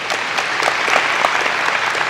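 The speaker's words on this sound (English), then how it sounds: "a round of applause, please" A crowd applauds steadily at a high school ceremony, dense clapping sustained throughout without a break, with no speech heard over it.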